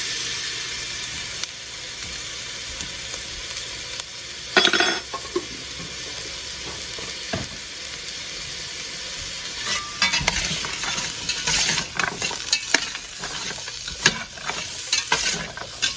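Garlic sautés in a pot for cabbage soup with a steady, close sizzle, broken by the scrape of a stirring utensil and occasional metallic clinks against the pot.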